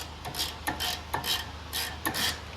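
Ratcheting and rubbing metal sounds from tightening brake bolts on a 2007 Toyota 4Runner during a brake upgrade, a series of short rasping bursts up close over a low steady hum.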